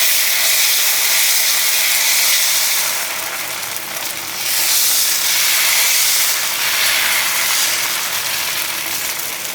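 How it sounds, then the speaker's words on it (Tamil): Green gram dosa batter hisses and sizzles loudly on a hot griddle, a constant bright crackle that swells and eases in waves, with no voices. "கல் நல்லா காஞ்சிடுச்சுங்க. பாருங்கள், தோசை ஊற்றிக்கலாம்."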